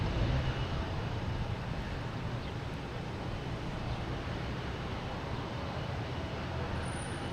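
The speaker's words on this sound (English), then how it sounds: "Also have an American Airlines coming in from Chicago, an A319. Landing on 22 left." An American Airlines A319 from Chicago landing on runway 22 left at Boston Logan, a steady, distant jet roar that stays even throughout with no voices over it.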